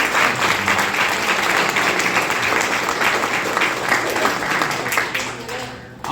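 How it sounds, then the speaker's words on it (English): A warm round of applause from a crowd at a congressional candidate's campaign event, full and steady for about six seconds before tapering near the end. "Let's give them a round of applause."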